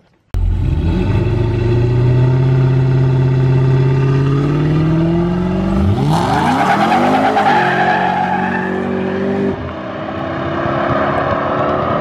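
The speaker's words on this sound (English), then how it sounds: "Let's get to some Mexican racing footage." Race cars roar loudly at a track in Mexico, one engine holding a high steady whine before sweeping through rapid pitch changes as cars pass close by, then fading to a rougher, more distant drone.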